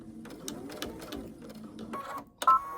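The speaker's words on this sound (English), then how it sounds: "I'm going to stitch down a couple stitches" A sewing machine stitches a quilted hoodie in short, quiet bursts of rapid clicking, stopping and starting over a few seconds.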